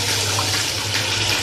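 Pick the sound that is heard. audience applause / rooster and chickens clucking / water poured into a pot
water poured into a pot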